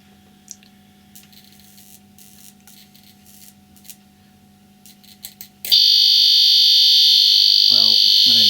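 A continuity tester's alarm signals a failure on a mains travel adaptor: after a few seconds of faint background noise and brief clicks, a loud, harsh, steady electronic tone starts suddenly and keeps sounding to the end.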